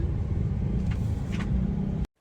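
Steady low rumble of car traffic heard from inside a vehicle on the morning drive to school, a continuous engine and road drone that cuts off abruptly at the end.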